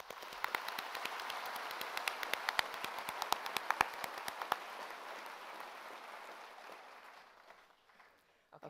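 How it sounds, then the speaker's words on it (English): A large graduation-ceremony crowd breaks into a dense round of applause, many overlapping claps that hold steady for several seconds, then thin out and fade away near the end. "Please join me in a round of applause to recognize everybody here today."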